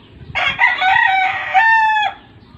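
A farm rooster, one of a keeper's stags, lets out a single loud, close cock-a-doodle-doo, its drawn-out final note ending abruptly, with no one talking over it.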